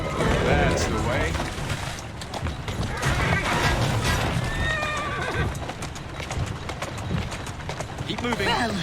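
A horse in Assassin's Creed Syndicate whinnies clearly over a steady clatter of hooves, the rhythm continuing throughout amid game ambience and occasional talk.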